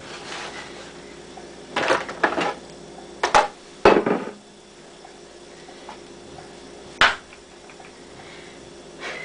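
Kitchen utensils are rummaged through in search of mixing spoons, a handful of sharp metallic clatters and clanks in separate bursts against a quiet room.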